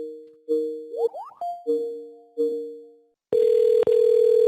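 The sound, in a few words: outbound phone call dialing via Microsoft Teams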